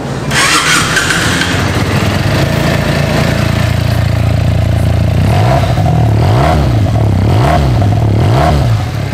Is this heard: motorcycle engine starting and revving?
yes